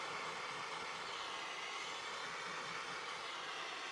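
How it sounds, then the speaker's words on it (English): A handheld torch flame roars steadily while burning the surface of a woodturned gnome figure, a continuous loud hiss that holds unbroken from start to finish with no talk. "Well, we just turn off our torch."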